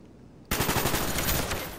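Sustained rapid automatic gunfire from a Call of Duty Black Ops 1 hardcore free-for-all match bursts in after a brief quiet moment, loud and continuous with dense repeated shots.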